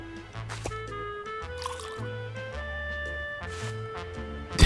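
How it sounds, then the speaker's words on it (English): Water poured into a cup in the video game Loco Motive, a short liquid fill with drips and trickles set against a layer of music tones. "I'll just grab a cup of water."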